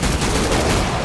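Dense, continuous rapid gunfire in the survival horror shooter Killing Floor 2, loud and close, with overlapping shots filling the whole moment without a pause.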